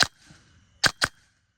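Three sharp gunshot cracks from a rifle fired at a target roughly 50 metres away: one at the start, then a close pair near the end, each loud and crisp with short decay.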